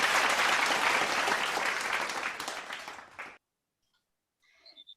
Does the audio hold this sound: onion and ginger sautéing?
no